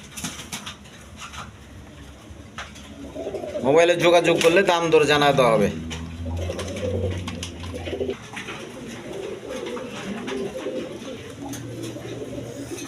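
Pigeons coo softly in a pen while someone talks over them, with a brief louder burst of bird calls and fluttering in the middle.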